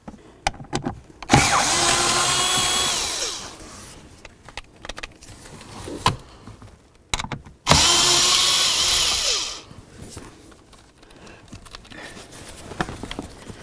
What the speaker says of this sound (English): Let's go ahead and remove all three and then remove the blower motor.